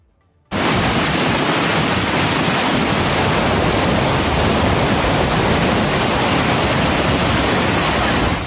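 Floodwater of the Chenab river in Punjab rushes after a breached embankment, a loud, dense, unbroken roar that starts abruptly and holds steady with no voices.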